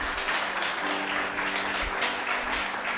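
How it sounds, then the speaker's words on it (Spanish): A church congregation claps together in sustained, dense applause, steady and fairly loud throughout, with no voices standing out. "Dele un aplauso al Señor para que esté más relajado."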